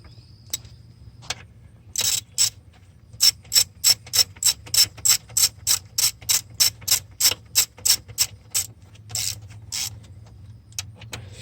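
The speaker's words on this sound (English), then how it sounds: "Then we can run our bolts down." A hand ratchet runs down the alternator bolts on a 6.0 Powerstroke engine, clicking in quick bursts that settle into a steady back-and-forth rhythm of about twenty close, crisp strokes.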